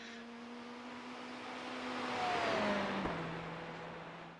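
A Ferrari GTE race car in the iRacing simulator drones steadily at moderate volume, its engine note swelling and rising as it accelerates, then dipping slightly before holding steady again, with no talking.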